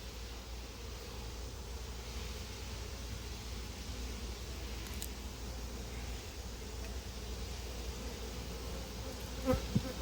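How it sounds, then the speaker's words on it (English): Summer honeybees buzz steadily at an apiary in July, a dense continuous drone that holds close and even throughout, with a couple of brief faint knocks near the end. "these bees in here are all what we call summer bees"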